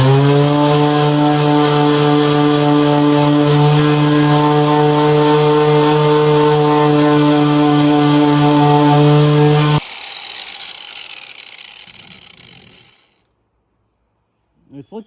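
An angle grinder fitted with a wire brush strips rust from the body of a '92 Firebird, a loud, steady, high-pitched whine sustained for several seconds before the motor cuts off and spins down to silence.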